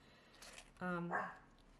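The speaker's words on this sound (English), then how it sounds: "Sorry about my dog there." A pet dog gives a single short bark indoors, fairly quiet and somewhat distant from the microphone, with faint rustling around it.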